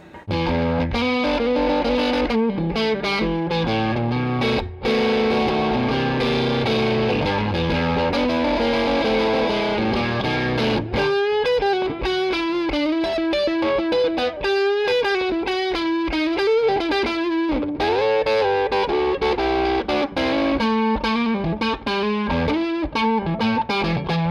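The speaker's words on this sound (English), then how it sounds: "kind of a really cool bluesy tone that the front pickup can get with an overdriven sound" An overdriven electric guitar on its front pickup plays a warm, bluesy phrase with bent notes and sustained tones, loud and continuous with no voices.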